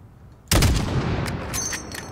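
Sniper rifle shot in the Call of Duty: Modern Warfare campaign, one sharp loud crack after a quiet moment, trailing into a long rumbling echo.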